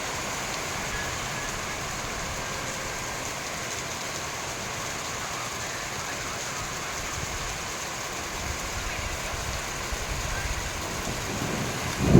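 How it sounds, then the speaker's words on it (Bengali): Steady, dense evening rain hisses throughout with a low rumbling of gusty wind buffeting the microphone, swelling slightly near the end. "বৃষ্টি হচ্ছে"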